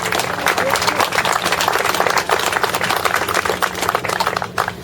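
Sustained, dense applause from a standing audience at a Harbor Seal Day community event at Alki, with a steady crowd roar throughout and no gaps.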